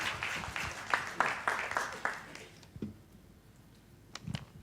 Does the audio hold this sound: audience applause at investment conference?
yes